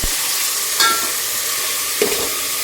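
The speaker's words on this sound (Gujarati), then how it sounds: "તેલમાં આ રીતે ચડવી દેવાનું હોય છે." Food sizzles steadily in hot oil during carrot halwa preparation, a continuous frying hiss with two brief louder stirring scrapes, close and alone with no talking.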